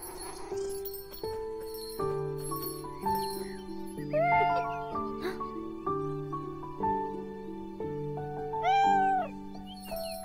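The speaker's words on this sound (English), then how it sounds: "Now, where did you go, little cat?" Meows from a cat in the video game Beyond Eyes come twice, brief and bright, over a gentle, steady piano-like melody that plays throughout.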